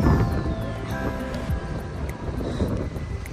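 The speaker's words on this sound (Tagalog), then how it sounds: "ang lakas talaga ng hangin kaya ang hirap din talaga mag-fishing pag malakas ang hangin" Strong wind roars in a steady, rushing blast across the microphone at a fishing spot on Oshima Island, with gusts buffeting it throughout and no one speaking.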